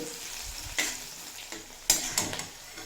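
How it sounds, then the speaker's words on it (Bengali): Onions gently softening in oil for a cabbage ghonto, a soft steady sizzle with a couple of sharper stirring scrapes, close and without talk. "পেঁয়াজটা হালকা নরম করে ভেজে নেব এখানে লাল করে ভাজবো না নরম হয়ে গেলেই হবে"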